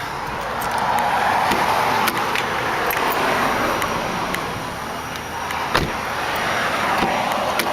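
Lighter doors of a 2002 Chevrolet Suburban shut in a series of short, sharp clunks scattered over several seconds, set against steady outdoor background noise.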